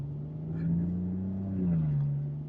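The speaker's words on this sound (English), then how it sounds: "That exhaust, though. This sounds so bad." A Maserati's exhaust drones at a low, steady pitch, swelling slightly as the engine revs gently and then settling, heard from inside the car at moderate volume with no talking.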